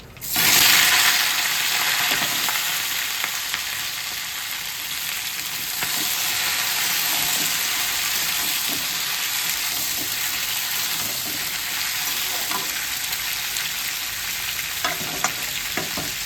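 Cauliflower stalks, eggplant and other mixed vegetables tipped into hot oil burst into a loud, close hiss that settles into a steady, dense frying sizzle lasting throughout, with no talk.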